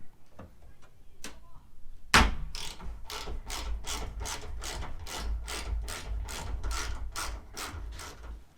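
A ratchet works a T40 bolt out of a bed tie-down on a Toyota Tacoma, giving a quick run of evenly spaced, crisp clicks after a sharp initial snap, close and fairly quiet.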